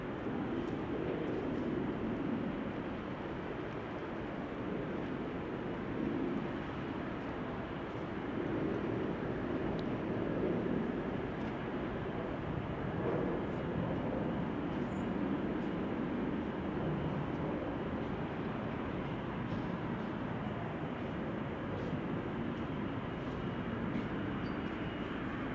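A Tarom airliner in SkyTeam livery at Amsterdam Schiphol gives off a steady, broad jet engine roar that swells slightly and stays continuous throughout, heard at a distance with no talking.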